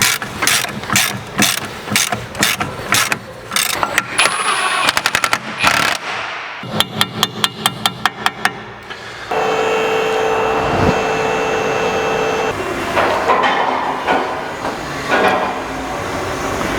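Shock absorber bolts on a car being torqued up, with loud rapid bursts from a pneumatic impact or ratchet tool in a workshop, then a steadier mechanical whirr with clanks toward the end.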